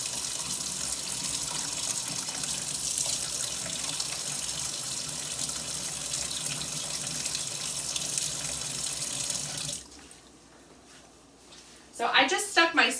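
A kitchen tap runs steadily off to the side, a broad even wash of water that cuts out near the end, followed by a few brief clinks and knocks, with talk heard around it.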